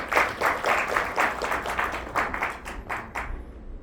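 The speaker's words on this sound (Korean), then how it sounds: "박수로 맞아주시기 바랍니다" An audience at a tech conference applauds to welcome a presenter, a modest scattering of hands clapping in loose bursts that thin out and fade toward the end.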